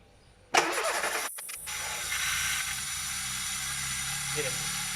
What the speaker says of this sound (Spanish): Y ahora vamos a proceder a dar arranque.